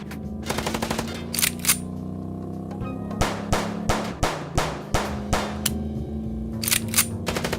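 Gunfire in the video game Chicken Police: bursts of sharp, rapid shots, close and loud, coming in clusters with a steady series of evenly spaced single shots in the middle, over a low background hum.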